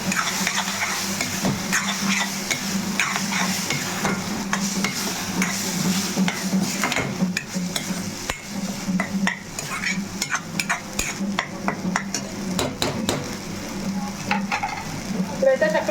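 Raw masala sizzles steadily in a frying pan while a utensil stirs and scrapes through it, the frying noise close and continuous with occasional clinks against the pan, no voices.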